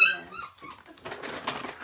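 A puppy whines and yips in high, squeaky bursts, close and fairly loud, with a rougher scuffling burst of noise toward the end.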